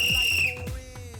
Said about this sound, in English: Well, Kev, I'm glad I got my whistle back